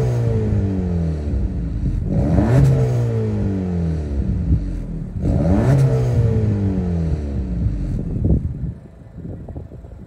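A 2024 Acura Integra A-Spec with a 1.5-liter turbo engine and dual exhaust revs hard twice in close succession, each rise climbing to a peak then falling back, before settling to a lower idle with some wind noise.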